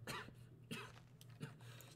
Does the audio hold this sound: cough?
yes